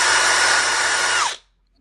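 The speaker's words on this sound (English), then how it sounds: "I can drill a 2x4 into the wall" A power drill runs at high speed drilling a 2x4 into a wall, a loud sustained whine that winds down and stops abruptly after about a second and a half.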